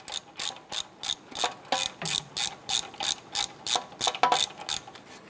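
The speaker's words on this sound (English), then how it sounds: "Now with both of those bolts loose, we can go ahead and spin those out." Ratchet wrench spinning out suspension knuckle bolts on a 2008-2012 Honda Accord, a steady run of crisp clicking pawl strokes in quick regular rhythm, close and fairly quiet with no talking.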